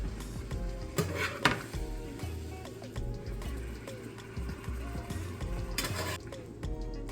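Garlic beef being stirred and turned in a pot: a spoon scrapes and knocks against the metal in a steady, repeating rhythm over a low, continuous sizzle, close and moderately loud, with no talking.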